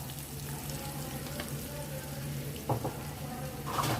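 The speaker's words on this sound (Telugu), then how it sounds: "చేప ముక్కలు ఫ్రై అవుతున్నాయండి. ఉప్పు చేప ముక్కలు ఇంకా కొంచెం ఫ్రై అవ్వాలి." Pieces of salted fish fry in a pan, a soft continuous sizzle with a low hum beneath and a couple of brief clatters near the end, quiet and close, with no talk.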